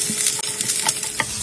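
Onions stirred and frying in about five tablespoons of hot oil for an Indian chicken masala, a steady loud sizzle with scraping stir strokes, close up and without talking.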